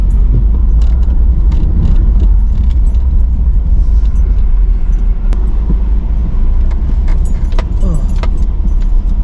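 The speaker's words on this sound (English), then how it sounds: "jingle jingle says my keys." Keys jangle in irregular bursts inside a car driving across a firm field at the Goodwood Festival of Speed 2023, loud and close over a heavy, constant engine and road rumble.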